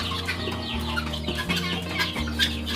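Guinea fowl on a poultry farm give repeated clucking, cackling calls, fairly close and continuous, over a steady low mechanical hum.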